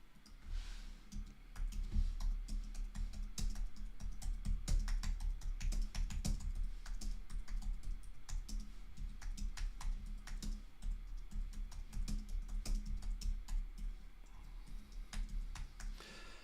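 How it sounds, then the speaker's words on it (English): Rapid typing on a computer keyboard, a dense, continuous stream of clicks and taps that holds steady at close range for the whole stretch, with no voices over it. "look at the old typing's getting quicker"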